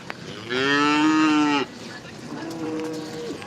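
Heifers under two years old at a calf rally, with one loud, close, sustained moo lasting about a second, followed by a fainter, shorter moo from another animal.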